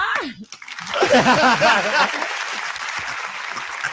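A played applause sound effect on a breakfast radio show bursts in after a short stretch of talk, then runs on as steady crowd clapping under chuckling and chatter.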